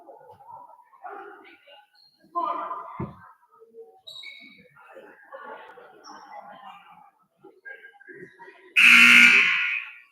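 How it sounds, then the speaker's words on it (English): At a basketball game during a timeout, a loud electronic buzzer blares near the end in one sustained burst, following a stretch of quiet gym noise, voices and scattered sounds. "And that loud buzzer"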